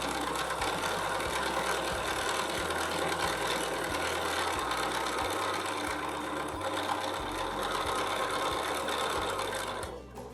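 Sewing machine running steadily while stitching a quilted pointed-leaf oval along a template, a loud continuous motor whir with a low rhythmic needle pulse that stops right at the end.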